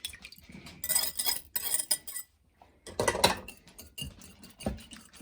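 Eggs and vanilla are whisked in a bowl for banana bread batter, with bursts of quick metallic clinking and scraping against the bowl, broken by a short pause before the whisking starts again, close and fairly quiet.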